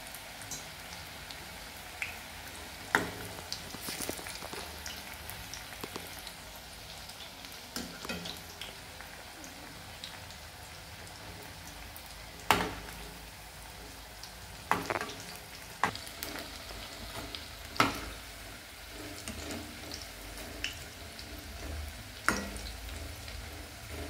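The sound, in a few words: onion bhaji frying in oil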